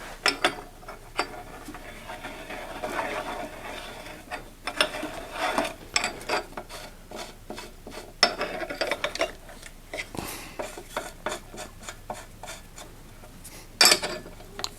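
A 15mm wrench turns a crank removal tool on a Trek gravel bike, giving close, loud, irregular metallic clicks and ratcheting clatter in bursts throughout, with no talking.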